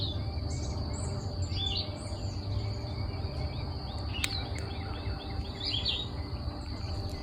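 A vireo sings repeated short phrases during spring migration, moderately distant, over a steady bed of insect and cricket trilling outdoors.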